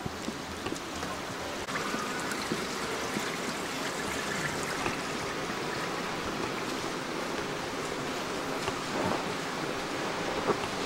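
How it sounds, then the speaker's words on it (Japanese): Water pours steadily from a decorative fountain-style waterfall in a hotel in Nagasaki, a constant broadband rushing wash with no breaks and no talk. "立派な噴水っていうのかな、滝。"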